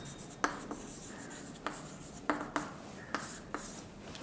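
Chalk or marker writing examples on a classroom board during an English grammar lesson, heard as scattered short taps and scratchy strokes over about four seconds, fairly faint with no talking.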